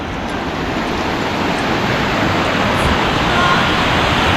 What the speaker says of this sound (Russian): Вот она, река, которая стекает с гор.